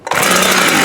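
A Husqvarna 372 chainsaw engine fires up abruptly after a brief pause and runs at a loud, steady, buzzy roar close by.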